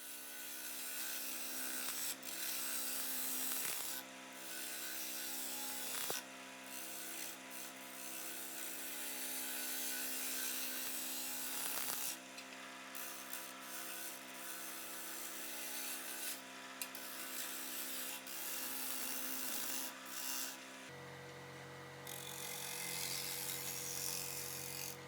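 A woodturning tool shears and scrapes a spinning workpiece made with melted crayons on a lathe. A steady motor hum runs underneath continuous rough rubbing and scraping, with brief changes as the tool rest is moved.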